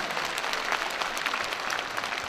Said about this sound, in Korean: 나 자신을 위해서 다시 한번 진짜 박수 한번 치셔